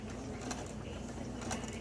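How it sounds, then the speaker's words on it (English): A sewing machine runs steadily while lock-stitching the end of a homemade fabric face mask, giving a continuous mechanical whir with faint ticking clicks, close by and moderately quiet. "I'm going to do a lock stitch, which for a regular sewing machine would be"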